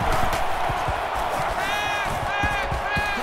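Stadium crowd in the college football video game NCAA Football 20, Southern Miss at Alabama: a steady, dense roar of many voices fills the whole stretch, with a few whistle-like tones rising over it and low thumps underneath.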